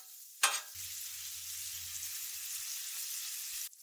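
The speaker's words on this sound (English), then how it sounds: "Render some bacon." Bacon renders in a hot pan, starting with a sharp hiss as it hits the metal and then settling into a steady, close sizzle that runs for a few seconds before cutting off.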